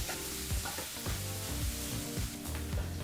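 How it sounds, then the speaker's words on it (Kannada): Onion fries in a pan over low to medium flame, a steady loud sizzle throughout with a few stirring scrapes, heard close up. "ಈಗ ಈ ಈರುಳ್ಳಿನೂ ಸಹ 2 ರಿಂದ 3 ನಿಮಿಷ ಲೋ ಫ್ಲೇಮ್ ಅಥವಾ ಮೀಡಿಯಂ ಫ್ಲೇಮ್ನಲ್ಲಿ ಫ್ರೈ ಮಾಡ್ಕೋಬೇಕಾಗತ್ತೆ."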